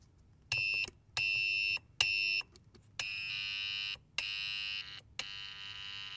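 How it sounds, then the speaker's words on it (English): A Snoopy novelty telephone's loud electronic ringer trills in repeated harsh bursts with short pauses between, shrill and buzzy like an alarm, close by with no talking. "What if I turn the ringer off? That is the ringer."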